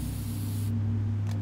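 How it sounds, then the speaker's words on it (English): Mist sprayed at an enemy in XCOM: Enemy Within, a loud hissing spray over a steady low hum that cuts off midway, then a short faint puff of hiss. "Yes, spraying mist at him is going to hurt."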